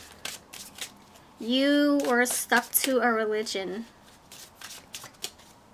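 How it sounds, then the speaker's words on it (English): Tarot cards are shuffled by hand in quick, papery riffles and slides while a person talks over them. "I'll do a little bit of shuffling while I say the examples."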